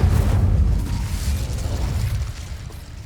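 A fiery Incendio spell blast in Hogwarts Legacy, a loud, close whooshing burst with a deep rumbling roar that decays steadily over about three seconds.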